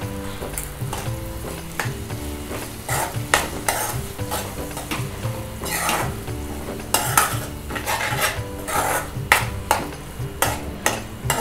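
Masala paste roasting in oil in a pan sizzles steadily while a spoon stirs and scrapes in repeated sharp strokes against the metal, close and fairly loud, with no talking.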